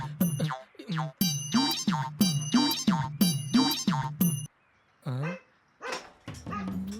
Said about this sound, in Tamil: பார்த்தா இங்க நாய் இருக்கு